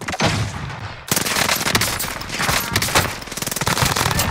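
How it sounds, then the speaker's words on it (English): A flashbang grenade blast in the Warzone battle royale game, set among dense, loud gunfire and explosive bursts that fill the whole stretch, with a sharp break just after the first second before another dense volley. "Flashbang going out."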